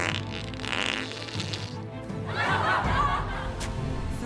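Fart sound effect played over a Dota 2 esports cast at DreamLeague Season 19, a drawn-out, rumbling burst sitting in a busy mix of background noise and muffled chuckling.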